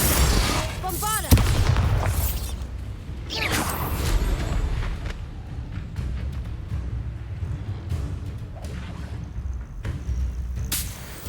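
A Bombarda blasting spell explodes in the Hogwarts Legacy video game, a single deep booming blast near the start followed by rumbling debris and scattered impacts, with game voices and talk around it.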